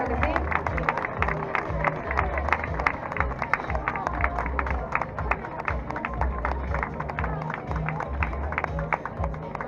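Crowd applause and cheering for the winners of a women's 10K race in Valencia, steady dense clapping with murmuring chatter and a low rumble underneath, sustained for about ten seconds outdoors.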